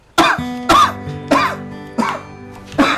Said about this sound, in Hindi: कुछ खांसी सी उठ रही है